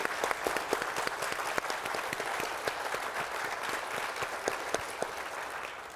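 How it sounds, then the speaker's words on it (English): Loud, dense applause from a community forum audience for a panel on recovery and community safety, sustained and even throughout, with sharp individual claps popping out of the wash. "Please give a big round of applause for our esteemed panelists."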